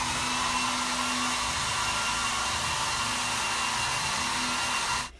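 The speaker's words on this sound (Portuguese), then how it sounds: "quem vai ser nosso amigo agora para finalizar o cabelo é o secador" A handheld hair dryer blows steadily and loudly while finishing freshly washed hair, a constant whooshing airflow with a faint motor hum that runs unbroken for about five seconds before cutting off at the end.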